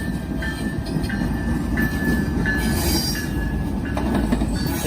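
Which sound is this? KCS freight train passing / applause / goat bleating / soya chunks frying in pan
KCS freight train passing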